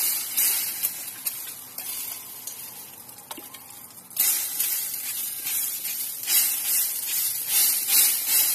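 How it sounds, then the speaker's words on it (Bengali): Cooking oil spray hissing into a pan in a home kitchen, a steady broadband spray that thickens after a brief pause, with short sizzling bursts continuing close and fairly loud. "এটা হচ্ছে অয়েল স্প্রে করছি আমি।"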